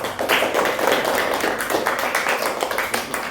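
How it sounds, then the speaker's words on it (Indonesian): A classroom of students claps for a student group, a dense, steady patter of many hands close by that carries through the whole stretch with a few louder slaps. "tepuk tangan untuk kelompok Anissa"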